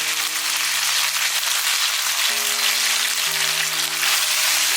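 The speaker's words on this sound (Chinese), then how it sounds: "等油温升高了，把牛肉放进来翻炒。" Beef stir-frying in hot oil with toasted sesame gives a loud, continuous hiss and crackle, with steady tones holding underneath throughout.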